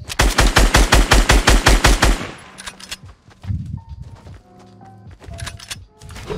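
Automatic gunfire in the video game Fortnite, with a loud rapid burst of about a dozen evenly spaced shots, then scattered quieter shots and in-game effects.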